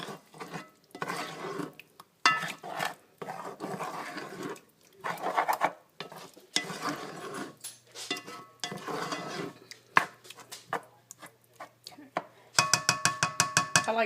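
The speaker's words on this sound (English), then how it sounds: "And I'm going to stir that all together." Chili with tomato sauce and seasoning is stirred in a pot, with uneven scraping and rubbing strokes in irregular bursts followed by a quick rapid scraping run.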